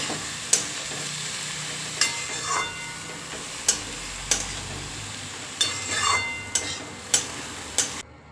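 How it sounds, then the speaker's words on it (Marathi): A spatula stirs dry cabbage sabzi in a pan, with soft sizzling underneath and sharp scraping knocks against the pan at irregular intervals, close and fairly quiet. "गोबी आता व्यवस्थित अशी मिक्स करून घेऊ।"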